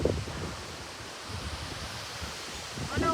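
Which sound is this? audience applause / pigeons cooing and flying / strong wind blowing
strong wind blowing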